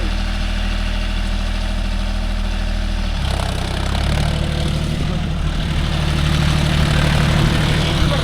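A John Deere 5050D GearPro 4WD tractor pulling a nine-point arm cultivator rumbles steadily with a deep engine drone under load, loud and continuous, with the note shifting slightly partway through.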